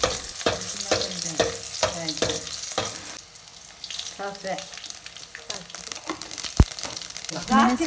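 Seven or eight garlic cloves fry in hot oil for tempering, a crackling sizzle with scraping stirs and a sharp clank, heard alongside a person talking.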